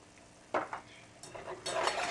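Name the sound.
whisking a sauce in a pan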